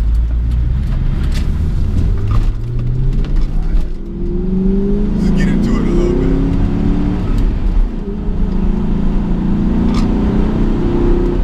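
A Ford SN-95 Mustang GT's engine revs while driving, its loud, close throttle sweeps rising and falling repeatedly, with a voice talking briefly over it.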